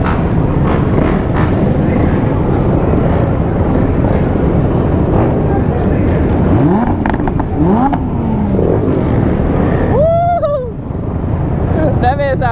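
A Lamborghini engine rumbles at a gas station amid loud wind and crowd noise, with rising tones near the end and voices talking throughout.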